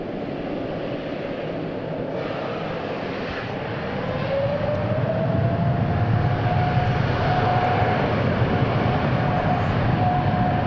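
A Qantas "Flying Roo" airliner at DFW airport roars with a loud, steady jet engine rumble that swells after a few seconds, while a high whine slowly climbs in pitch, heard without speech.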